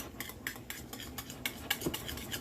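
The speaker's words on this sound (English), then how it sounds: "Stir it up nice and good." A spoon stirs pumpkin muffin batter in a bowl with a steady run of short scraping strokes, close and fairly soft, each stroke a quick rasp against the bowl with no voices.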